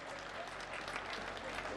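An audience at a Hindi comic poetry gathering applauds in a steady, dense burst of clapping that holds evenly throughout, heard from within the hall with no voice over it.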